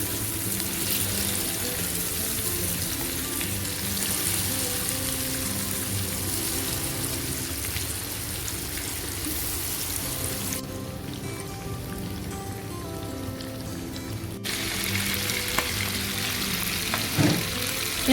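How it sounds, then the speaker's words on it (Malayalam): Marinated chicken fries in hot oil over a low flame, giving a dense, continuous crackle and sizzle that dips briefly midway before resuming at full strength. "ഇനി നമുക്കിതിലേക്ക് മാരിനേറ്റ് ചെയ്ത ചിക്കൻ ഇട്ട് കൊടുക്കാം. നല്ല ചൂടായി കിടക്കുന്ന എണ്ണയാണ്."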